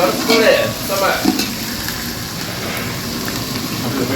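Onions, green chillies and curry leaves fry in a pan for rava khichdi, with a loud, close sizzle, spatula scraping and stirring strokes through the first seconds and a steady hiss after.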